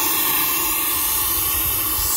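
A sprayer hisses continuously as it sprays TG500 primer onto basement walls, a loud, steady, close-up rush of air with no pauses.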